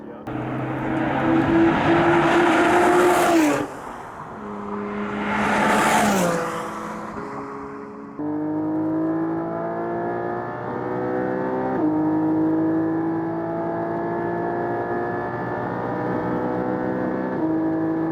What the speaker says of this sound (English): Man, I love the sound of the exhaust.